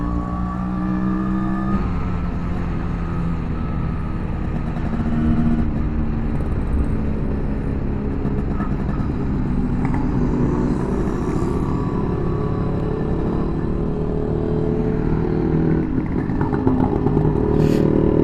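Vintage vehicles roll past at a rally in Tamil Nadu, a steady, loud mix of engine rumble and revving with some clatter, continuous throughout without any talk.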